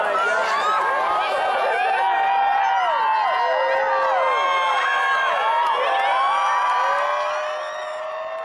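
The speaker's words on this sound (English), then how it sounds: "the crowd started cheering for the sun to come out" A large crowd cheers, whoops and shouts in excitement, waiting for the sun to emerge just before totality of a total solar eclipse. The dense, sustained cheering holds steady at close range and eases slightly toward the end.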